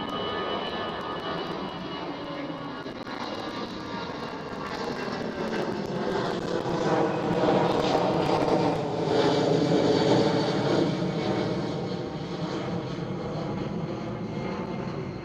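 A Croatia Airlines airplane at Amsterdam Schiphol airport roars steadily with jet engine noise, loud and broadband, swelling slightly in the middle as it passes, with no talk over it.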